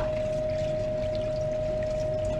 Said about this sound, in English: I'm gonna pour this off into here.